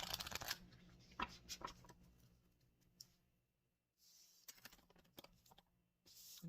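Tarot cards shuffled in quick papery bursts, pausing briefly between riffles, close and crisp with no voices.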